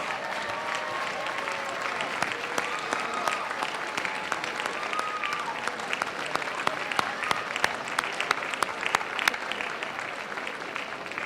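Graduates applaud their families at a December graduate commencement, sustained crowd clapping with distinct sharp individual claps standing out, steady and moderately loud for the whole stretch.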